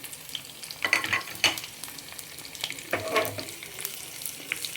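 Cumin and mustard seeds fry in hot oil as tempering for moong dal soup, with a soft hiss broken by a few bursts of sharp crackles and pops, close and alone.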